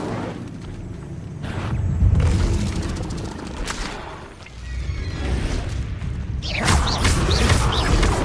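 Incendio fire spell cast repeatedly in Hogwarts Legacy, loud whooshing bursts and booming impacts close up, with a fresh flaring blast near the end.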